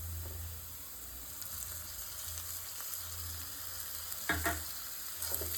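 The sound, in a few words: carrot and tomato frying in pan for pasta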